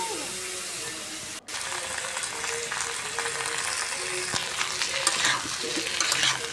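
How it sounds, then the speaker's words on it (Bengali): Potatoes frying in oil in a pan for chicken biryani, a continuous close sizzle with stirring scrapes and a brief break, then the crackle grows busier and louder. "আলুটা আমার ভাজা হচ্ছে।"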